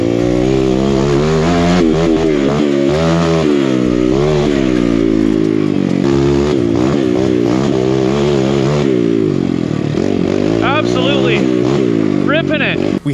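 A 170cc big bore Kawasaki KLX140RF dirt bike engine idles and revs loudly up close while warming up, its pitch rising and falling steadily throughout, with no pauses.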